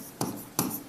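Two short scratchy strokes of a teacher writing notes during a history class, close and fairly quiet, with no talking.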